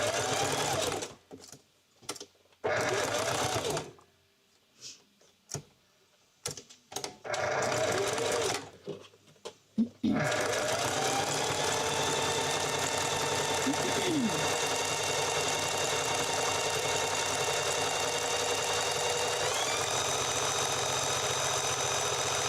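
Sewing machine stitching rope for coasters, first in short stop-start bursts of whirring, then running continuously at a steady, close, even hum.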